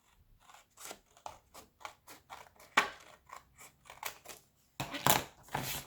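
Scissors cut through card paper, snipping in a quick irregular series of crisp blade closures, close up and alone, with a louder burst of cutting near the end.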